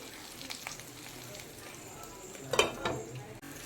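Prawn paturi wrapped in banana leaf fries in a covered pan with a steady soft sizzle, broken by a brief louder crackle and clatter partway through.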